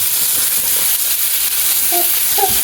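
Onion, garlic, bay leaf and tomato sizzle in half a spoon of melted ghee, a steady close hiss of frying that runs unbroken with no voices over it.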